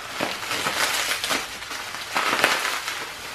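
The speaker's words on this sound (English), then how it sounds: "let me get through this paper because you're not going to be able to hear me" Paper is torn and crumpled while a subscription box is unboxed, giving several broadband rustling bursts at close range with no talk over them.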